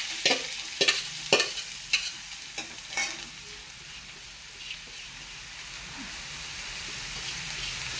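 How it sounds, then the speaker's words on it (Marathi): Grated carrot halwa roasting in ghee in a kadai, with several sharp scraping strokes of a spoon early on, then a steady soft sizzle that carries on to the end. "तुपामध्ये हलवा भाजून घ्यायचा आहे"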